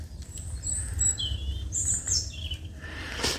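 Small birds answer with a run of high, thin chirps and whistled notes, near and clear over a low rumbling background, ending in a brief sharp burst.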